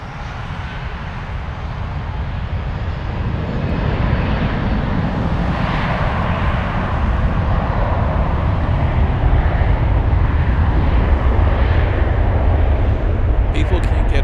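Lufthansa Airbus A321-200 jet slowing at Frankfurt Airport, bound for Lisbon as flight 1170: a loud, steady broadband engine roar that swells slightly and holds throughout, with voices talking over it.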